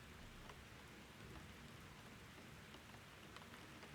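Steady rain falls during a rainstorm, a dense, even hiss of drops on surfaces with no voices, quiet and continuous throughout.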